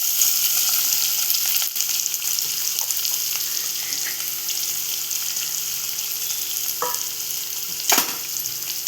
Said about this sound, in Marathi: आता आपण कांदा शिजवून घेऊया, परतवून घेऊया.